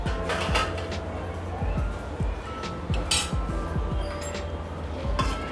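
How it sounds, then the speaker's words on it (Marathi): A metal lid comes off a cooking pot in a home kitchen where rice flour dough for fulke is steaming, giving light clinks and clatters of metal cookware over a steady background hiss. "2-3 मिनटं झालेली आहेत, आपण झाकण काढूया."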